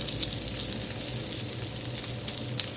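Chicken malai tikka sears in a pan of butter and oil, a steady close sizzle and crackle with small pops spread throughout and no voices.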